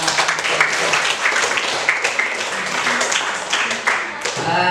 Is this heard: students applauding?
yes